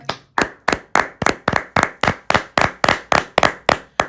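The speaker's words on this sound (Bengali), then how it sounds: "একটা জোরে হাততালি হয়ে যাক" Steady, evenly spaced hand claps in a college mess, about a dozen in a row, sharp and close with no other sounds.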